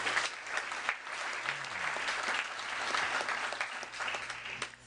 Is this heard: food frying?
no